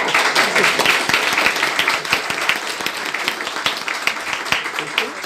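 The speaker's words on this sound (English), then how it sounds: "can we give a round of applause to our chair?" A conference audience applauds the chair of a panel on climate change, conflict and faith leaders, a sustained round of clapping with a few sharper nearby claps, voices faintly present.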